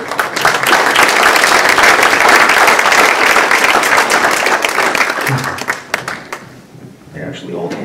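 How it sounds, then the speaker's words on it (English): Audience at a magic comedy show applauds volunteers, loud dense clapping sustained for several seconds before thinning out and stopping, with faint voices at the end. "Round of applause for our volunteers."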